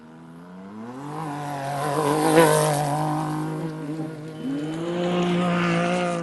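A rally car, number 410, launches off the start line at a desert rally prologue in Abu Dhabi; its engine roars loud and close, climbing steeply in pitch, easing briefly, then surging up again as it pulls away.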